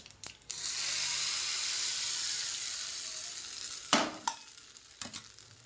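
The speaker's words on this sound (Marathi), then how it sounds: "त्याला फोडणी देते बघू शकता कडकडीत फोडणी तयार झाली" A burst of loud, hissing sizzle as spices hit hot oil for a chutney tempering, fading gradually, followed by a couple of sharp clatters near the end.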